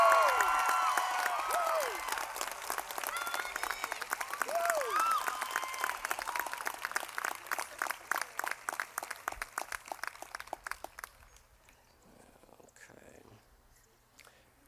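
Audience at a university commencement ceremony breaks into sustained loud applause with some cheering, the clapping thinning into scattered claps before fading to quiet near the end.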